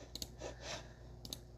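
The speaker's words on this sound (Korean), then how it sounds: "그걸 누르시면 돼요. 백슬래시." Backslash key pressed on a computer keyboard while entering a regular expression in Sigil, heard as a few faint, quick clicks near the start and end over a low steady hum.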